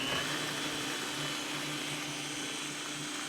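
A blender whirs steadily, close and loud, as it blends almond milk with vanilla and cinnamon, the motor holding an even tone throughout.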